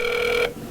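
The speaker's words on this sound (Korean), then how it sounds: "우리는 손희원에게 직접 전화를 걸었습니다" A single ringback tone sounds for an outgoing phone call, a clear buzzing tone that stops abruptly after about half a second, leaving a quiet line.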